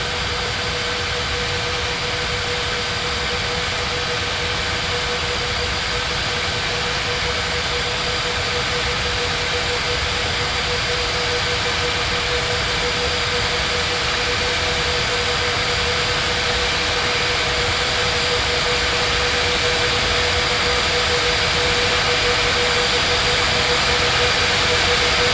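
Jet airliner engines roar in a loud, continuous, unbroken drone during takeoff on runway 27 at Bali, steady for the full stretch and alone without voices.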